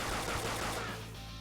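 Dense, loud burst of rapid gunfire from the Persona 5 Royal video game, a continuous automatic spray lasting about a second before easing off slightly.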